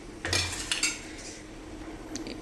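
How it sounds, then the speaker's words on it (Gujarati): A spoon clinks and scrapes against a metal pot while Gujarati tuver dal is stirred after half a lemon is squeezed in, a few quick metallic knocks near the start, then softer scraping over a low background hum. "લીંબુ નાખીને હલાવી લઈશું."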